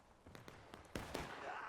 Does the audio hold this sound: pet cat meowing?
no